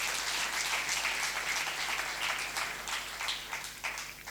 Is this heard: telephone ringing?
no